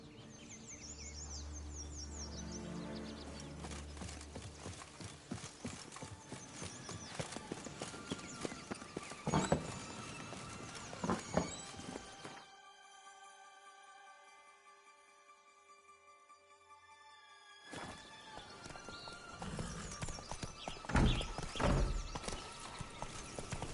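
Hooves of a galloping horse in The Witcher 3 pound in a fast, continuous rhythm amid insect and bird ambience, fading out for a quiet stretch of crickets before the hoofbeats return loudly.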